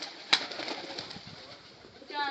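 Soft, throaty pigeon coos repeat close by, with a sharp click near the start and a faint rustle underneath.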